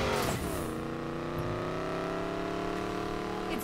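A fast car in Need for Speed Payback with its engine revving hard and holding a loud, steady high-pitched drone, pitch shifting as it accelerates, no talk.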